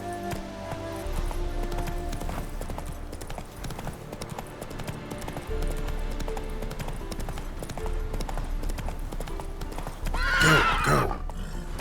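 Horse Roach galloping in The Witcher 3, rapid rhythmic hoofbeats over game music and ambience, then a loud close neigh near the end.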